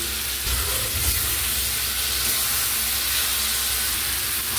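Vegetable stalks drop into hot oil in a pan and fry with a loud, steady sizzle and hiss that keeps up without a break.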